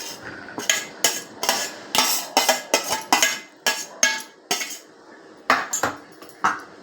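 A spoon clinks and scrapes against a bowl while mixing chopped carrot, onion, capsicum and coriander, giving about a dozen sharp, close strikes in an uneven but steady rhythm.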